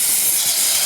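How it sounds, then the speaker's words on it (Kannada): A pressure cooker whistle lets out a loud, continuous hiss of escaping steam in a home kitchen during ghee rice cooking, with no voices, over its whole short length. "ಸೊ ಕುಕ್ಕರ್ 1 ಕೂಕ್ ಹೋಗ್ತಾ ಆಂಟಿ?"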